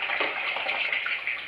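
A shaving bowl and brush are rinsed in water, giving a steady close-up wash of splashing and swishing that lasts the whole moment without pause. No voices.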